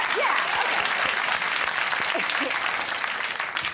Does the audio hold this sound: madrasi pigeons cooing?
no